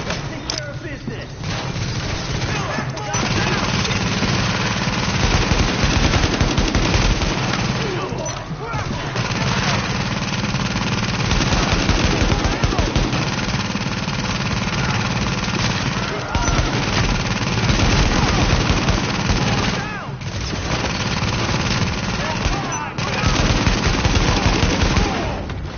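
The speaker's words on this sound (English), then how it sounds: "The escort party's taking heavy fire from the roof." Sustained machine gun fire rattles through a firefight in the video game The Division, with long, dense bursts and heavy thuds continuing almost without pause, mixed with game voices and shouting.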